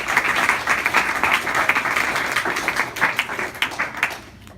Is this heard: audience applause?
yes